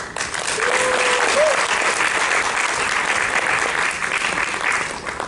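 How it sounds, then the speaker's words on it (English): An audience at a grand finals event claps for the contestants, steady full applause from a large crowd held at even volume for several seconds, with a brief faint tone or voice near the start. "And for them, I would ask you for a round of applause."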